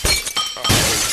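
Glass shattering in the Happy Wheels video game as a Segway rider drops through a glass fall: a loud burst of breaking glass that runs straight into a second sustained, bright crash, with no talk.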